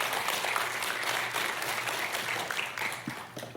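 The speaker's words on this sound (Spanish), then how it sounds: "den un fuerte aplauso a Dios" A church congregation gives a loud round of applause to God during a sermon, steady crowd clapping that carries on evenly, somewhat distant in the room.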